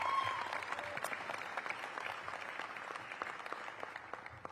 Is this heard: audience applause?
yes